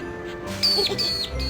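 A bird gives a few short whistled chirps, clear and fairly close, over a steady low background hum.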